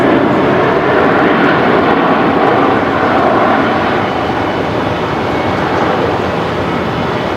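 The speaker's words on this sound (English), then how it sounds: "And Qantas 549 is lining up now." A Qantas airliner at Brisbane Airport produces a loud, continuous jet engine roar as it lines up on the runway, steady and broadband with no speech.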